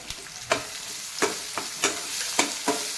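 Chopped onions frying in a pan for a bitter gourd curry, a quiet continuous sizzle punctuated by about six evenly spaced spatula stirs and scrapes.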